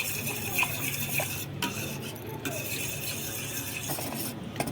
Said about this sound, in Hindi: बस इसमें हाथ नहीं रुकने चाहिए गाइस, घुमाते रहिए घुमाते रहिए